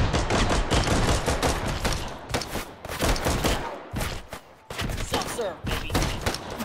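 Rapid gunfire in the VR game Hot Dogs, Horseshoes & Hand Grenades, with loud close bursts of shots repeating in quick succession and short gaps between volleys, while a voice talks over parts of it.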